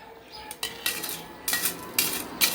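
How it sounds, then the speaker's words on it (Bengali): Aquarium gravel stones being raked along the tank base with a stick, giving sharp clattering and gritty scraping bursts at irregular intervals, close and fairly clear, with no talk. "আস্তে আস্তে গোড়ার দিকে পাথরগুলোকে টেনে টেনে দিচ্ছি"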